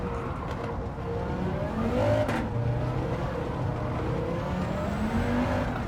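A 788hp MK1 Golf GTI in Gran Turismo 7 drones loudly around the Nordschleife, engine note rising and falling steadily as the car carries speed through a corner, close and continuous.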